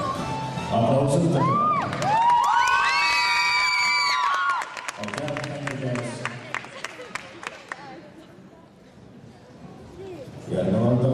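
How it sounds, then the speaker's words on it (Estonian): Crowd cheering, whooping and clapping at a children's rhythmic gymnastics hoop awards ceremony, a loud burst of shouts and applause mixed with an announcer's voice, fading to scattered claps before talk resumes. "Aplausos."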